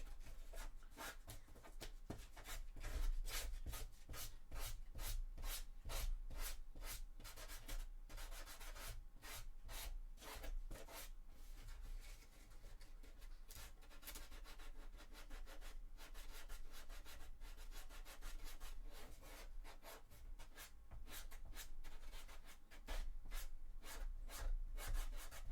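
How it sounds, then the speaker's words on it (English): Rapid back-and-forth sanding scrapes on wood in quick rhythmic strokes on a cosplay chainsword base, continuous and close, with brief pauses between bursts. "a little bit of sanding"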